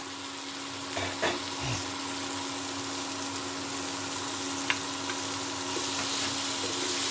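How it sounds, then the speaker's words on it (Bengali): Roasted eggplant goes into a pan of frying spices, setting off a steady low sizzle with a few soft stirring knocks and no talk. "এর মধ্যে আমি এই পুড়িয়ে রাখা বেগুনটা এখন দিয়ে দেবো।"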